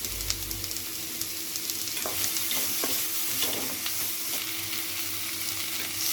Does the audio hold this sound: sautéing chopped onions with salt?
yes